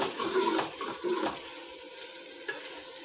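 Onion and garlic fry in a pan with a steady, close hiss and sizzle, with a few brief surges of louder crackling early on and no talking.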